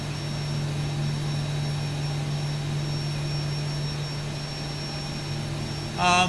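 Jet engines of a Boeing 737-800 in X-Plane 12 after landing, a steady loud roar with a constant low hum, rising briefly and sharply right at the end.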